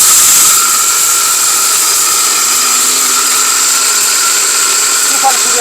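A heavy-duty electric blender with a powerful motor runs close and very loud, a steady high-pitched whirring drone with hissing noise and a constant tone throughout, no pauses.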